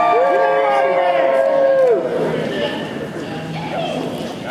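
A group of people cheers together for a photo, a loud burst of mixed voices whooping at once that trails off into a looser murmur of crowd noise.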